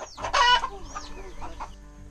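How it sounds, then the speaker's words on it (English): Chickens cluck and squawk at a chicken house in Bali, one loud burst followed by softer overlapping clucks nearby, with a steady low hum underneath. "To the chicken house? Yes, chicken house, yeah."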